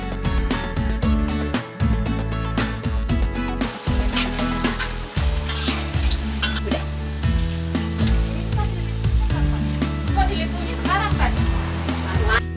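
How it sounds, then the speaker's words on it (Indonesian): Palm shoots (umbut) stir-fried with spices and a splash of water in a pan, giving a steady continuous sizzle throughout that sits under prominent background music. "Tambahkan sedikit air, lalu masukkan batang umbut dan tumis sampai matang."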